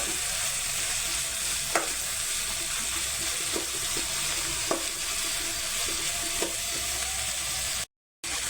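Chopped onions sauté in a frying pan with a low, steady sizzle, broken by a few sharp taps of a spoon stirring against the pan, close and fairly quiet, with no voices.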